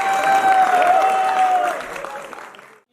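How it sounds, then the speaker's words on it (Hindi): Audience applause in a theatre following a stage performance of a historical drama about Aurangzeb's last night, a dense steady clapping wash with a tonal hum running beneath it, fading out toward the end. "आपके लिए तालियां।"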